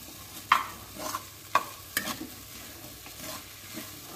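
Tomatoes are stirred in a frying pan for no-onion, no-garlic Navratri khichdi, with a spoon scraping and knocking in irregular strokes over a soft, steady sizzle.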